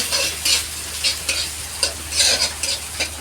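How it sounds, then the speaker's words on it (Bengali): Onion and dried red chili sizzle in hot oil as a tempering for masoor dal, a steady crackling fry broken by repeated scraping stirs of a spoon in the pan. "পেঁয়াজ, শুকনো লঙ্কা ফোড়ন দিলাম, একটু পাঁচফোড়ন দিব"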